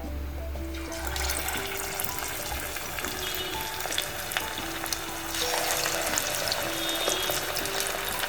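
Marinated prawns dropped into hot oil for Malvani prawns koliwada fry with a steady, dense sizzle and crackle that swells slightly louder partway through, close and continuous with no talking.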